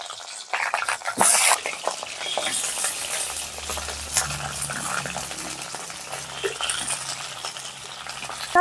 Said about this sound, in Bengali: তেল গরম হয়ে গেছে, ফুলকপিগুলো ভেজে নেব